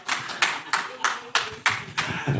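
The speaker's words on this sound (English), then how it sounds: "a big clap for our CEO, Mr. Odoro Ngwen" At an ODM women leaders' celebration at Chungwa House in Nairobi, a crowd claps for the party's CEO in a rhythmic, unison beat: seven sharp, evenly spaced claps with low murmuring between them.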